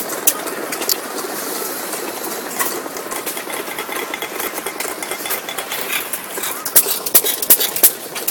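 Small 2 HP Majestic Waterloo Built engine on a concrete mixer running at a show, a busy, close mechanical chatter with rapid rattling clicks and occasional louder pops toward the end.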